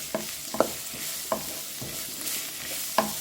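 Sliced onions sauté in a pan, with a spatula scraping and tapping every half second or so over a soft, steady sizzle, fairly quiet and close.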